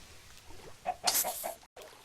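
Chicken in Minecraft giving a few short clucks close by, with a brief bright burst mid-clip and quiet background, no speech.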